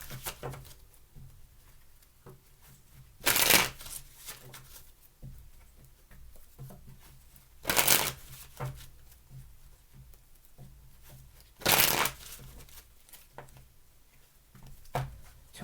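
Tarot cards are shuffled in three short, crisp riffling bursts spaced a few seconds apart, close up, with quiet room noise and faint handling sounds in between.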